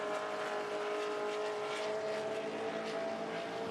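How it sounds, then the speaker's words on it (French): A Porsche 908 race car's flat-eight engine is pushed near full power at the Le Mans Classic, a faint, distant, continuous high-pitched drone without any voices. "En faisant cracher toute la puissance, ou presque, du 8 cylindres à plat de sa voiture"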